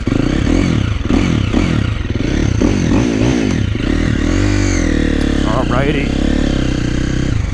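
A KTM 350 XCF four-stroke dirt bike, with valves that may need shimming, revs hard at full throttle while ridden at an off-road park. The engine note rises and falls in loud, close surges. Someone speaks briefly over it.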